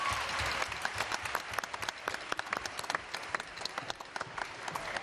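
An audience at a jazz concert applauds to welcome a singer to the stage, giving a steady, moderately distant patter of many hands clapping that carries on throughout without a break.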